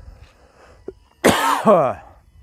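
A loud, close cough followed by a second raspy cough and a strained breath, preceded by a faint throat noise.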